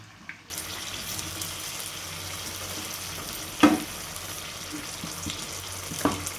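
Steady sizzling hiss of chilli fritters frying in oil in a wok fills the clip, close and continuous, with a couple of sharp clacks from a utensil.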